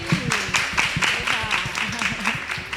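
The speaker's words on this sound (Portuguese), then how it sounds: "Vamos aplaudir eles." Audience clapping at a talk on art, culture and education, a smaller group applauding at a moderate level while a person speaks over the clapping.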